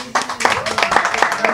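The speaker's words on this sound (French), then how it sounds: "j'aimerais que les femmes qui sont dans cette salle puissent applaudir" Scattered clapping from audience members in a Paris conference hall, a handful of distinct, fairly close hand claps in an uneven rhythm, with a voice speaking over them.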